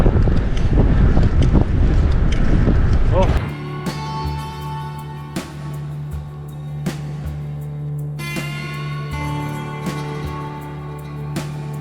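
Heavy wind buffeting the microphone outdoors near Lake Burdur, Turkey, in a roaring rumble at first, then easing into steadier low gusts with occasional thumps.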